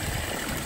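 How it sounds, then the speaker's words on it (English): Water from an aquarium with a UV filter pours out in a steady waterfall-like rush, a continuous loud splashing that fills the short moment with no voices. "It's coming out like a waterfall."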